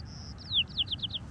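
A bird sings a clear phrase: one sustained whistle, then a falling slur, then a row of quick descending notes. It is close and bright over a low rumbling background, with no voices.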